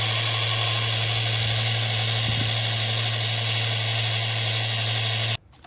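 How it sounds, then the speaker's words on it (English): A power sander dry-sands a Jesmonite piece with 120-grit paper and a vacuum attached, giving a steady, close, continuous whir with a constant hum underneath, then cutting off sharply near the end. "We're starting the dry sanding with a grit of 120."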